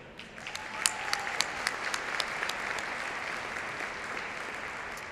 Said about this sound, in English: Please join me in one more round of applause for our faculty.